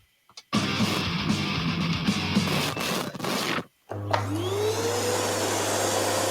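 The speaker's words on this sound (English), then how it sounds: "Sounds like a vacuum cleaner." A vacuum cleaner starts up and roars loudly nearby, cuts out briefly, then starts again with a steady low hum and a rising whine.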